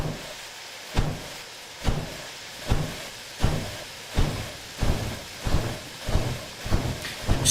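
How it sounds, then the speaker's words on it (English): Steam locomotive chuffing in a steady rhythm of about nine evenly spaced exhaust beats, each a broad burst over a continuous hiss, fairly close and with no voices. "the chuff sounds of a steam locomotive"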